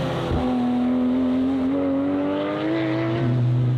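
Rally race cars, including a Porsche GT3, accelerate hard on wet roads, loud steady engine whine rising in pitch as the car revs close by, with no talking.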